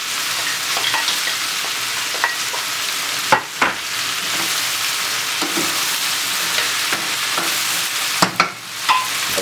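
Cabbage stir-fried with sweet corn and broccoli sizzles loudly and continuously in a hot pan, with occasional knocks and scrapes of stirring breaking through the dense hiss.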